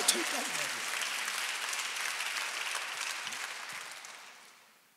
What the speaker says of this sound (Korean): 박수해.